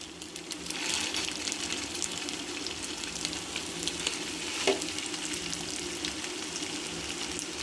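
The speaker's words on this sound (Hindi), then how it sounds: "ऑयल गर्म हो गया है। अब हम इसमें कबाब डाल देंगे।" Beef reshmi kebabs fry in hot oil in a frying pan over a low flame, making a continuous close sizzle with a brief clink midway and no voices.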